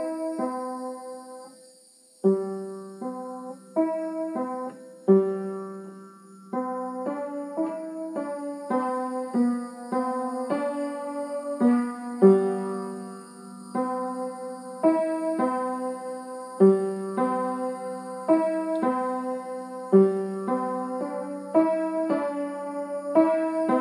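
A simple beginner piano piece played at a steady, careful pace, single notes and small chords in a plain repeating pattern.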